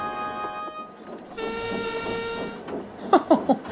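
Sir Handel, a small narrow-gauge engine on the Skarloey Railway, pulls into a passing loop with a steady, fairly near rumble, then gives a short run of sharp whistle or horn blasts.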